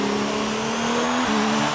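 A McLaren Formula 1 car in the racing game F1 2019 at the German Grand Prix: a loud, high engine whine holds and climbs, with a brief dip in pitch at a gear change partway through.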